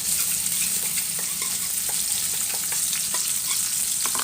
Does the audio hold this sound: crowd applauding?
no